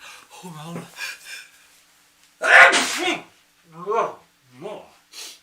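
A loud, close sneeze bursts out between stretches of someone talking, followed by more speech.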